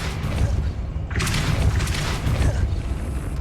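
A Depulso spell cast in the PS5 game Hogwarts Legacy, heard as a dense whooshing magical burst with a rumbling boom and mechanical clatter, loud and sustained under game ambience, with no talk.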